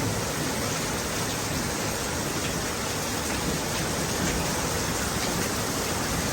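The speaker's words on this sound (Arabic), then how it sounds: "أمطار قوية في مدينة مراكش حاليا." Heavy downpour in Marrakech during a thunderstorm, a dense, constant roar of rain hissing loudly and evenly without pause, with no voices.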